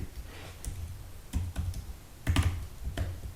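Typing on a computer keyboard: close, quiet key clicks in irregular bursts and short runs, with a few louder presses, and no voices.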